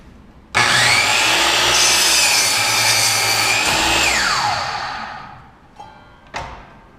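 A miter saw makes an angled cut through wood. A loud, close motor whine and cutting rasp hold steady for about four seconds, then the blade spins down, followed by a couple of faint clacks as the saw is raised.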